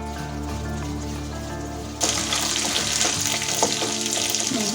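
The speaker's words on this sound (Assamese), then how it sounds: "মাংসখিনি 5 মিনিটমান ঢাকনি লগাই সিজিবলৈ দিম। আৰু গেছৰ ফ্লেমটো মই মিডিয়াম কৰি ৰাখিছোঁ" Chicken pieces in a covered pan over a medium gas flame give off a steady sizzling hiss that suddenly grows louder and brighter partway through, close up with no talking.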